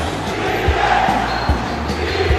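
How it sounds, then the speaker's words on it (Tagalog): Basketball arena crowd at an MPBL South Division Finals game between Batangas and Zamboanga, a steady roar of cheering and chanting with rhythmic low thumps like a bouncing ball or stomping, loud and continuous through the final seconds. "I just love the crowd, Migs."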